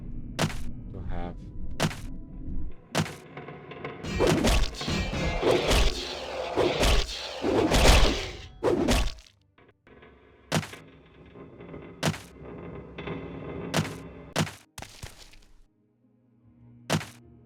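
Repeated hits on Dwemer books in the Morrowind video game, a string of dull thunks and thwacks, some singly and some in quick bursts, fairly close and moderately loud over a faint game ambience.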